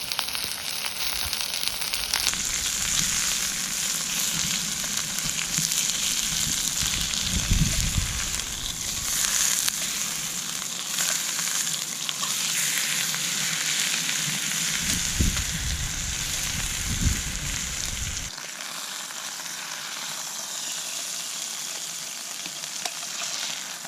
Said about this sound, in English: So that's the steak and the asparagus in now.